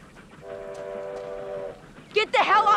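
A train horn sounds a long steady blast from a passing train in a film scene, then people shout urgently over it.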